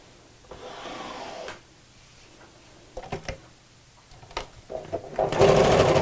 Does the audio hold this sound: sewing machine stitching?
yes